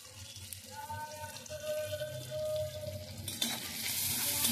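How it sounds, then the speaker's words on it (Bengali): Spiced lentil and potato curry is stirred in a pan, with soft scraping and a low sizzle that grows louder and busier after a few seconds. "এবারে নাড়াচাড়া করছি, একটু নাড়াচাড়া করবো।"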